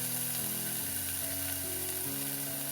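Chopped onions frying in a pot with a steady, quiet sizzle, heard alone over a low background hum with occasional faint stirring sounds.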